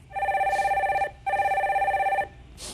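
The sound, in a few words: telephone ringing as a radio show call connects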